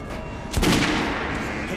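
A single gunshot rings out at a shooting range in Metro: Last Light, a sharp crack with a short echoing tail over a steady background hum.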